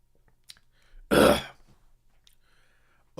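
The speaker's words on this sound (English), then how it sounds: "Clear your throat, son." A man clears his throat once, a short rough harsh burst standing out against near silence, with a few faint small noises before and after.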